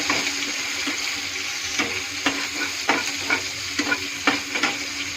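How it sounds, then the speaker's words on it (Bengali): Cumin seeds frying in a pan, a steady close sizzle broken by repeated scraping strokes of a spoon as the seeds are stirred. "এখন জিরা ঢেলে দিলাম, জিরা ঢেলে দিলাম, একটু নেড়ে ছেড়ে"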